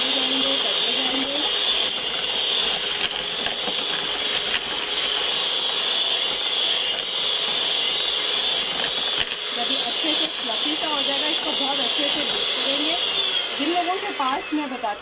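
An electric beater whirs continuously at a high, steady pitch while beating batter for a desi ghee tea cake, with a voice talking over the motor throughout.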